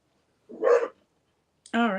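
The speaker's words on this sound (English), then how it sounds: "I got Django over here barking still" A dog barks outside, two short separate barks about a second apart, the second more drawn out and tonal, in an otherwise quiet room.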